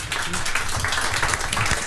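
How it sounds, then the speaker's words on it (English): Applause on a radio quiz show, a short dense burst of clapping from a small group, steady and fairly close throughout the brief moment. "Round of applause, well done."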